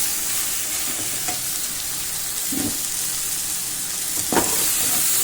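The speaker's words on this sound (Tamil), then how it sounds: "அதை ஒன்றா போட்டு நம்ம இப்போ மிக்ஸ் பண்ண போகிறோம்." Cooked banana stem and moong dal kootu is stirred in a hot pan: steady close sizzling with occasional scrapes and clunks of the spoon against the pan.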